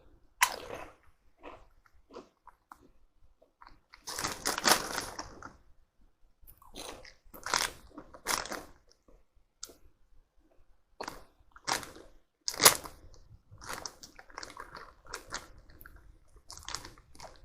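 Morrisons Savers salt and vinegar crisps being eaten close up: repeated bursts of crisp crunching and chewing separated by quiet gaps, with no talking.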